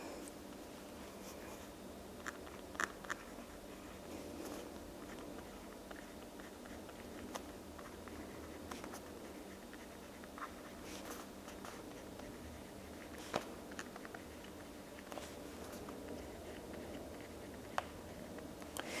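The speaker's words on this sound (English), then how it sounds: "This is going to be hard to talk through this while I'm writing." Pen writing by hand on the pages of an Erin Condren monthly paper planner, a faint, continuous scratchy scribble with small taps and pauses, close by, with no talking.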